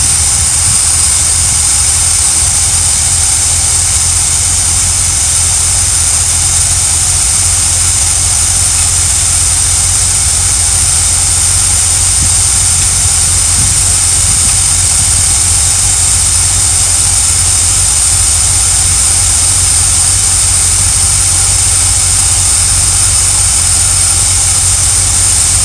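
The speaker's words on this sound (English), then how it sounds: "it's not idling as smooth as it was when it when we first started" A motorhome engine idling roughly at a somewhat high RPM, a steady low rumble with a broad hiss, continuous and fairly loud throughout with no talking.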